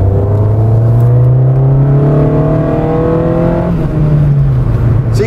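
A 1992 Rover 416SLi engine revving hard, loud and close, its drone climbing steadily in pitch, then dropping briefly and rising again, with no talk over it.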